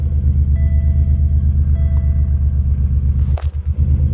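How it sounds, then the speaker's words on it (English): A car engine runs at a steady, close idle with a deep, even rumble, and a short clatter comes near the end; no one speaks. "Starts the car right up."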